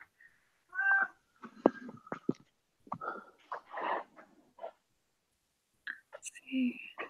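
A very vocal house cat meows in several short, expressive calls, fairly close, interleaved with quiet breathy sounds and pauses of near silence.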